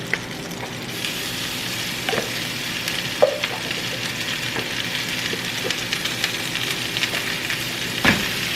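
Rice thrown into a hot pan sizzles steadily and close, a continuous bright frying hiss with occasional small clicks and pops, no talk.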